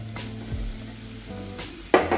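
Okra sizzles in a hot pan of spiced masala while being stirred, a low frying hiss under light scraping, ending with a sharp clank of utensil against the pan.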